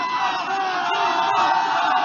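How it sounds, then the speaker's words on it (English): A rowdy political rally crowd in Scranton, Pennsylvania roars with sustained cheering, whoops and shouts, loud and dense throughout without a break. "This is a nice rowdy crowd,"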